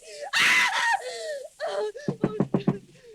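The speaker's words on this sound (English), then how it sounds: "Why were you screaming?" A woman cries out and screams in a nightmare in a 1943 radio drama: strained, breathy shrieks and gasps, followed by a quick series of sharp knock-like beats.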